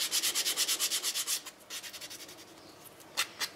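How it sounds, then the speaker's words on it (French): A hand file rasps along the edges of a small wooden piece being prepared for decoration with dried flowers and resin, giving a quick, even run of close scraping strokes that slow into a few sparser passes. "je vais passer un petit coup de lime pour donner un aspect un petit peu plus uniforme aux côtés"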